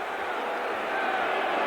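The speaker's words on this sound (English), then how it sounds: "And the Oklahoma crowd a little upset." A stadium crowd at a 1991 Colorado vs Oklahoma college football game murmurs and roars in a continuous, distant wash of many voices.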